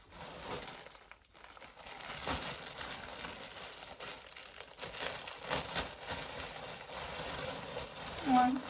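Plastic packaging crinkles and tears in bursts of rustling, close up, with a voice speaking briefly over the handling noise.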